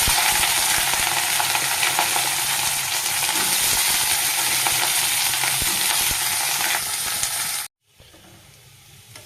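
Cauliflower and potatoes, tempered with black cumin, fry loudly in oil in a pan, a dense steady sizzle with stirring that runs for about eight seconds, then cuts to a much quieter hiss.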